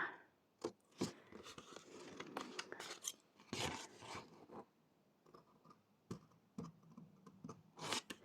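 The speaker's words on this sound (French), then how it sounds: "j'ai des gros ciseaux pour faire ça" Large scissors cutting paper for a handmade explosion box craft, a series of crisp snips and crunching slices in irregular bursts, close and quiet with no talk.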